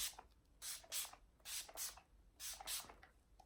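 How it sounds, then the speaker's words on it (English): Nivea oil control setting spray misted in short, soft bursts, about six hisses in pairs, close and quiet with no voices. "I'll just pop a little bit of setting spray"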